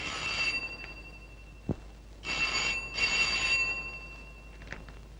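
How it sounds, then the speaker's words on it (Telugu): An old-style telephone rings in bursts, bright metallic trills separated by pauses, with a faint thud in between and a low hum underneath. "ఫోన్ ఎత్తు."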